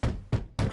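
Three firm knocks on a door in Assassin's Creed Odyssey, evenly spaced and close, each a short hollow thud with a quick decay, heard alone.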